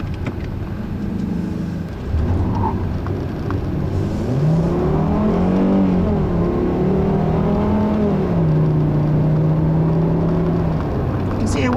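Cabin sound of a 2010 Volkswagen Golf with a 6-speed automatic in sport mode, the engine note rising and dropping as the gearbox downshifts on its own during a drive, steady road hum underneath and a voice talking over it.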